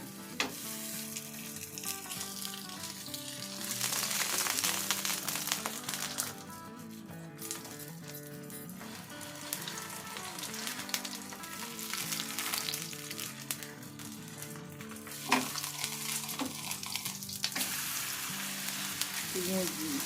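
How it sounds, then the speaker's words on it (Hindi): A frozen cheese paratha fries in a little oil on a tava, sizzling and crackling close by with occasional scraping and stirring sounds, no talk over it. "तो यहाँ पे जी तवा मैंने रख दिया और हल्का सा मैं ऑयल डालूंगी। तो ले जी ये एक पराठा गया।"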